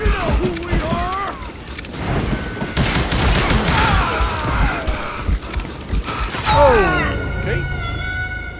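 Gunfire bursts and crashes from the Call of Juarez: Gunslinger video game, with rapid shots and impacts throughout amid a noisy action mix, while a person talks over it.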